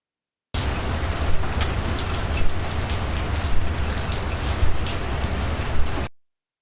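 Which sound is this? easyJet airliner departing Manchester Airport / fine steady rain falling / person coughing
fine steady rain falling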